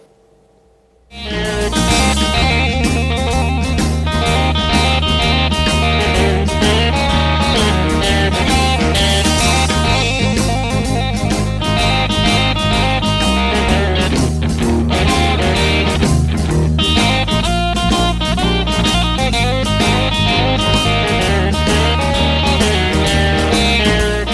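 Electric guitar plays the second section of a blues song, a blues melody alternating with rhythm chords, loud, close and continuous for over twenty seconds without speech.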